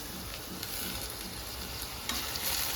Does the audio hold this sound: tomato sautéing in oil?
yes